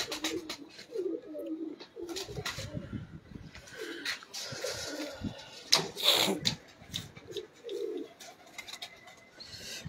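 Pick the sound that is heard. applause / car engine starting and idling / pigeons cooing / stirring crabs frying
pigeons cooing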